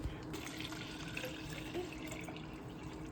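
Cold tap water runs steadily into a container to make lemon water, a soft continuous trickle and splash close by with a small burst at the start.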